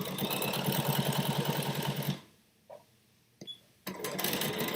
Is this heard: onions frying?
no